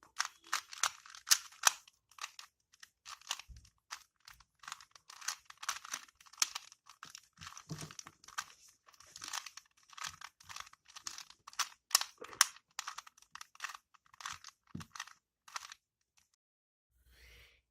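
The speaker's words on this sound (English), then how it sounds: "firstly, we are going to shuffle the cube" Rapid plastic clicks and clacks of a 2x2 Rubik's cube being shuffled, quick irregular bursts close up, fading to quiet at the end.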